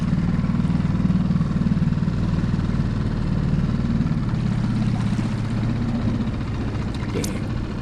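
A skiff's outboard motor idles steadily while trolling at La Jolla, a continuous low, even drone that stays near and constant throughout with no talk.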